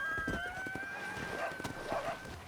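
A horse in the Red Dead Redemption video game, giving a faint whinny over soft hoof clip-clops.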